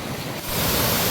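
Rushing water at Paritala waterfalls roars as a steady, loud broadband wash that swells slightly partway through, with no voices.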